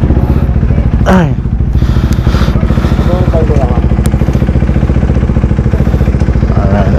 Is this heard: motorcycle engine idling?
yes